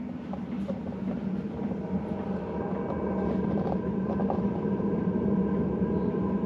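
A steady, droning roar of a heater burner blowing exhaust, with a low hum that grows slightly louder partway through.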